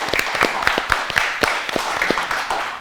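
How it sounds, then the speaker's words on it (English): An audience at a Ramadan quiz show claps for the Cambridge team, with quick, steady, moderately loud clapping that carries on throughout without a break. "give once again the clapping to Cambridge"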